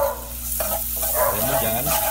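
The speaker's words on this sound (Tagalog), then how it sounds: "ipa-fry natin yung garlic na natira" Leftover garlic frying over high heat in a pan, giving a steady, loud sizzle and crackle that fills the whole moment.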